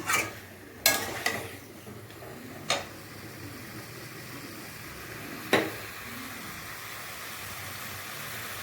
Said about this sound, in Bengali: 10-15 মিনিট ধরে মাংসটাকে কষার জন্য ছেড়ে দিতে হবে।